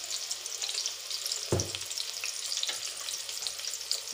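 Ginger garlic paste sizzles steadily in a hot pan, with a continuous crackle and a few louder stirring scrapes close by.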